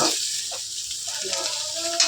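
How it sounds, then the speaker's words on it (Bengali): Spices fry in a small amount of oil in a pan, giving a steady close sizzle with light stirring scrapes throughout. "কম তেলের মধ্যেই কি সুন্দর ভাজা হয়েছে দেখো মশলাও কষানো হয়ে যাবে"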